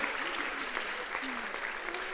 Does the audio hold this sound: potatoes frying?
no